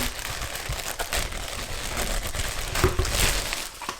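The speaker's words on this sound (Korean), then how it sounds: "비닐을 제거를 해주면" Plastic wrapping on a packaged bicycle helmet crinkles and rustles up close as it is handled and pulled away, a continuous crackly texture with a few sharper crunches.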